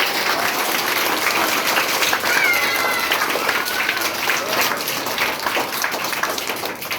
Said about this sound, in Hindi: चाचा नेहरू के जन्म दिवस पर जोरदार तालियां होना चाहिए